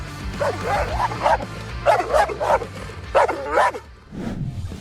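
Several sharp Belgian Shepherd barks come in quick bursts of two or three, close and loud, followed by a softer whine at the end.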